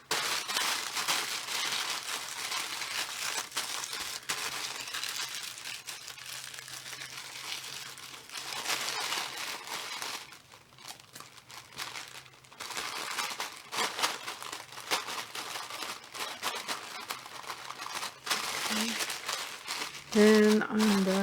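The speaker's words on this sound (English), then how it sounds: "And put some more washi tape right there." Washi tape torn from the roll and pressed onto a Christmas-shaped paper gift tag, a long run of close crinkling and tearing rustles with brief pauses.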